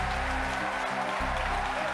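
A roomful of people cheers and claps as rocket side boosters separate, a dense, steady wash of applause with no breaks over a short stretch.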